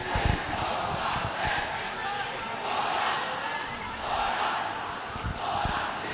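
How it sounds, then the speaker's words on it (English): Thomian supporters at a St. Thomas' College school football match against Gateway College keep up a loud, continuous roar of cheering that swells and eases in waves, with a commentator talking over it. "The Thormian crowd cheering them on"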